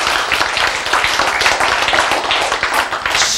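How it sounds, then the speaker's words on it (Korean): An audience bursts into applause during a talk, many hands clapping in a dense, steady patter that stays loud and even for several seconds, with a few indistinct voices underneath. "박수!"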